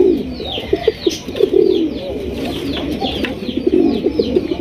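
White Bombay pigeons cooing repeatedly at close range in a pigeon sale collection, soft throaty coos overlapping in a steady rhythm with faint higher bird chirps behind.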